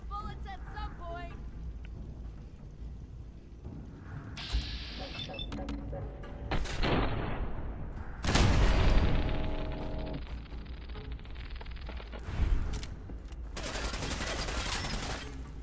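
Scattered gunfire bursts and impacts from a gunfight in the video game Fallout 4, uneven and moderately loud, mixed with game effects and a few voices talking over it.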